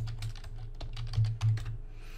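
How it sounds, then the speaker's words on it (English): Someone types login details on a computer keyboard, a quick run of close, light key clicks with a few heavier taps near the end, in a quiet room without talking. "Let's make sure I type it right."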